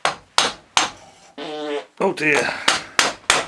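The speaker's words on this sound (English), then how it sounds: "So now we'll just hit it with a hammer, really, a rubber hammer" A rubber hammer strikes a Mitsubishi Shogun alternator in sharp, loud, close blows, about nine in all at a fairly regular pace, with someone speaking briefly between them.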